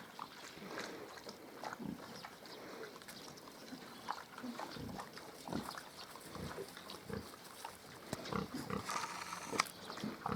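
Hungarian Mangalica piglets rooting outdoors near a muddy puddle, giving soft, scattered grunts and snorts at close range, irregular and fairly quiet, with faint background noise.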